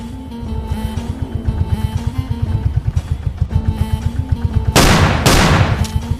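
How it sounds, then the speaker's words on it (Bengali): Animated jungle scene with a rapid burst of cartoon gunfire, repeated sharp bangs in quick succession, then two loud, broad blasts near the end, close and prominent over a droning background. "জঙ্গল থেকে একটা গুলির আওয়াজ এলো না?"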